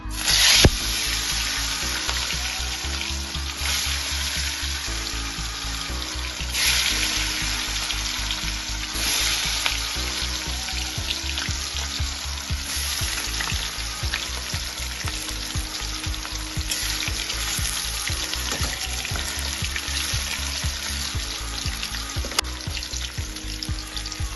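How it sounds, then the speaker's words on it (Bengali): Silver carp pieces frying in hot oil in a wok, a steady, loud, close sizzle and crackle that continues for the whole stretch, with occasional spatters and stirring noises and no speech. "কড়াতে তেল গরম হয়ে গেছে এবার আমি মাছগুলোকে একে একে ছেড়ে দেবো"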